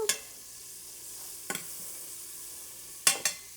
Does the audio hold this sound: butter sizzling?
yes